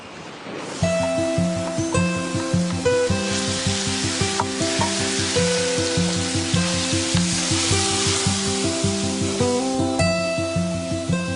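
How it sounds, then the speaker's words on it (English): Ground beef browning in a hot pan for taco filling, a steady close sizzle and frying hiss throughout, with a regular stirring rhythm and a tonal hum underneath. "And just start to brown the beef off"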